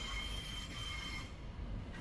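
A London Northwestern Railway Class 730 electric train fills the scene with a steady, close rumble and running noise, with high metallic ringing and faint wheel squeal, and nobody speaking.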